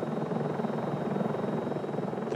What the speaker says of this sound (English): Then the helicopter is able to immediately lower down right over the animal.